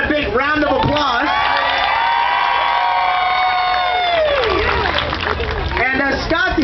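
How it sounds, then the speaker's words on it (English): A fair crowd at an alligator show cheers, whoops and claps for a spotter, with children's voices shouting in sustained rising and falling yells over a steady roar of applause, loud and close. "If we give Scott a big round of applause."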